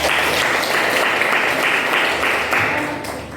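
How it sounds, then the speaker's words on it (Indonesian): Classroom applause after student group presentations during a teaching practice lesson: loud, dense clapping that holds steady, then begins to taper off near the end. "Beri tepuk tangan"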